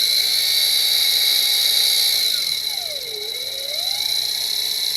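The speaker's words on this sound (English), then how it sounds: "I should be able to just easily drill a little bit out straight down till it goes in." An electric drill bores straight down into glued wood, its steady high motor whine dipping in pitch as the bit bites in, then climbing back up as it frees.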